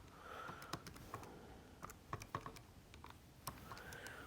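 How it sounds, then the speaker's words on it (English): Scattered button presses as numbers are keyed into a calculator, a dozen or so faint, sharp clicks at irregular intervals over quiet room noise. "So when we type that into the calculator"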